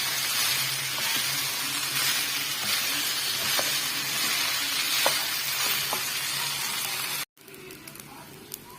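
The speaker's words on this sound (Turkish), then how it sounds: "Şimdi de kavuruyorum." Washed rice sautéing in a pot, a steady close sizzle and hiss with occasional stirring clicks that suddenly cuts off, leaving a quieter simmer.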